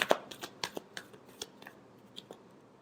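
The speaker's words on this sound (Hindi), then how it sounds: "last shuffle" Tarot cards being shuffled in a quick riffling series of crisp, papery flicks, loudest at the start and thinning out toward the end, with no voice over them.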